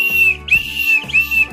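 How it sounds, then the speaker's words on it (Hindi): An orange and blue plastic toy whistle gives two loud, shrill, steady blasts, each close up and lasting about half a second, separated by a short pause. "ऑरेंज प्लस ब्लू कलर की सीटी है, और प्लास्टिक की सीटी, देखते हैं वर्क करती है नहीं"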